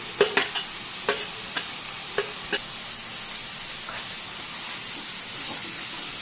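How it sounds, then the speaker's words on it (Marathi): Carrots, tondli, capsicum and peas sautéing for pulao, a steady hissing sizzle punctuated by a series of distinct spatula taps and scrapes against the pan early on, then quieter frying. "आता या भाज्या आपण छान परतून घेऊया"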